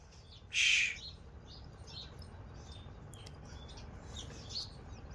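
A single loud bird squawk rings out near the start, followed by scattered faint chirps against a quiet outdoor background.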